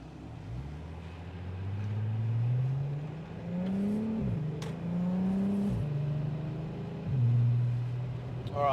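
A ute towing a trailer drives past on a hinterland road in South East Queensland, its engine note rising and shifting steadily as it approaches and passes close by.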